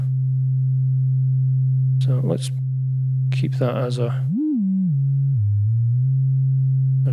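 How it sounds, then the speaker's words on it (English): A steady, loud sine tone from an Instruo Tš-L oscillator hums continuously under a man's speech, then glides upward and back down in pitch before settling lower. "we should have our fundamental sine wave"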